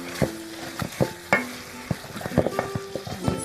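Boiled beef pieces going into a pot for yellow basmati rice, with scattered metallic clinks and scrapes of a spoon against the pot over a low sizzle, in irregular bursts.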